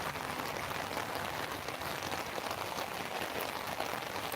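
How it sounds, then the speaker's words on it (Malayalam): A continuous wash of heavy rainfall, even and unbroken, close and fairly loud, with no talking. "ഭയങ്കര മഴയല്ലേ"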